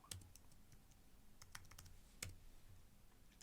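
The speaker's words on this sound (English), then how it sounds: "I'm quickly going to type a couple of commands" Faint, scattered keystrokes on a computer keyboard as commands are entered, irregular light taps spread across a few seconds over a low background hiss, no talk.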